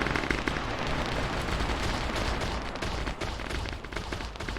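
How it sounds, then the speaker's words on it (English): Dense, continuous automatic gunfire from Starship Troopers game troopers shooting down hopper bugs, rapid overlapping bursts sustained at steady loudness throughout with no voices. "They're shooting them down."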